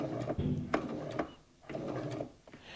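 A sewing machine stitches 60° diamond patchwork pieces in short, quiet runs with clicking mechanism sounds and a brief pause between bursts.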